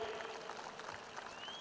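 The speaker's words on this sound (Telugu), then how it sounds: "మీరు కూడా గట్టిగా చప్పట్లు కొట్టి ఆశీర్వదించమని మిమ్మల్ని అందరినీ ప్రార్థిస్తున్నా" Audience applause at a ceremony honouring a devotional channel, steady dense clapping filling the short stretch at moderate level, with no talk over it.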